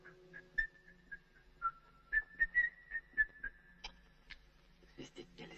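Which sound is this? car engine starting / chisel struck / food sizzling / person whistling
person whistling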